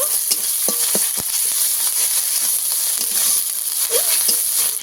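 Fish frying with kochu and spice paste sizzles steadily in a pan, punctuated by repeated scraping and clinking strokes of a stirring spoon, close and fairly loud with no talking.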